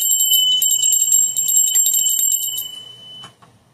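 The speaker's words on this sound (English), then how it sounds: "Let's do the bell to clear out the energy from the floor." A bright metal bell rings out repeatedly to clear energy from the floor during a reading. The high shimmering tones ring over one another up close, then fade away.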